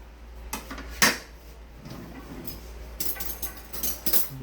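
Metal spoon and fork being handled, scattered clinks and clatters of cutlery against dishes, one sharper clink standing out and a quicker cluster of rattling near the end, close by in a quiet room.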